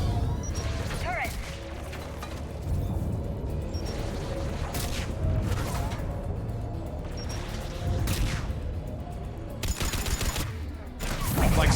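Turret gunfire in the video game Mass Effect 3: repeated bursts of shots and booms land at irregular intervals, loud and close, layered over ongoing combat noise.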